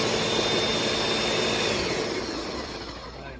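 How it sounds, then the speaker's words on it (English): A blender whirs loudly and steadily as it mixes carrot pancake batter with Greek yogurt, a close motor drone that eases slightly toward the end. "and throw it all in the blender"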